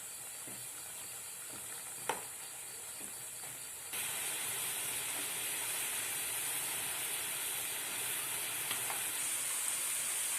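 Elephant foot yam pieces frying in hot oil, a steady broadband hiss and sizzle that grows louder and denser partway through, with a few small pops and clicks and no talking.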